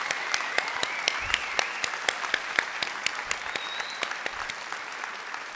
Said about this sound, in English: give a round of applause to the DY class of 2024